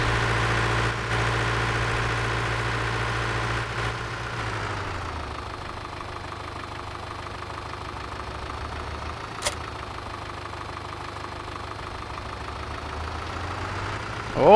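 A tractor engine in Farming Simulator 2013 idles with a steady low rumble; a heavier low drone in the first few seconds drops away, leaving a quieter, even idle.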